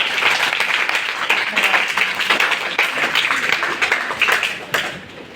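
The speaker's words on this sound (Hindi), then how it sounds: "जोरदार तालियां हो जाए प्यारे से बच्चे" A group of children on an educational outing for International Moon Day claps loudly and continuously, with sharp, uneven hand strikes and voices mixed in.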